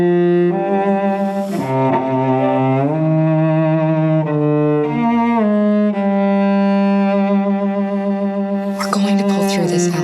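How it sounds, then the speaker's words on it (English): A two-note musical motif serves as the character theme for Kara in the game Detroit: Become Human, played as sustained tonal music with rich harmonics that shifts pitch in steps, loud and continuous for the whole stretch. "I found a little theme that just seemed to fit over the top, which is taking Kara's name, Kara, and just using like a two-syllable motif"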